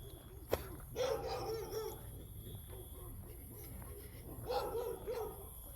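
Dogs bark at night during a late walk, with two separate bursts of barking, one near the start and one near the end, over steady background hiss and low outdoor noise.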